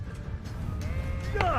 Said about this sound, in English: These sheep bawling at us